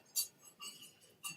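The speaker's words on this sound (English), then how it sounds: "I love the clinking." Glasses clinking at a city council meeting in Redondo Beach: three or four faint, bright taps spaced about half a second apart, each short and crisp against a quiet room.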